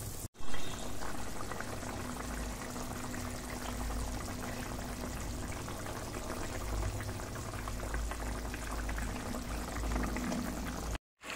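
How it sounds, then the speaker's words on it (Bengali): Potato and pointed gourd curry (aloo potol) simmering in a pot, a steady soft bubbling and hiss that holds for several seconds, close and fairly quiet, with no talk. "এবার এটাকে ফুটতে দিতে হবে।"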